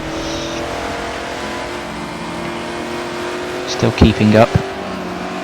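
Race cars in Forza Motorsport 7 at the Dubai circuit drone steadily through a sprint race, engines humming under continuous commentary, with a brief louder burst of revving near the end.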